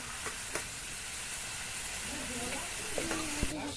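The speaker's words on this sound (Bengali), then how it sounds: "এবার আমি ঢেলে দিচ্ছি এই সর্ষেটা আর কাঁচা লঙ্কা" Mustard paste and green chillies hitting a hot frying pan for a village-style snake gourd dish, giving a steady loud sizzle with a few stirring scrapes and clinks near the end.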